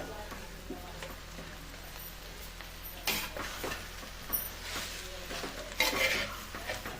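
A spoon stirs jackfruit curry with masala in a pan, giving soft, intermittent scraping and clinking of metal against the pan, with quiet background noise and a few louder stirring bursts in the second half.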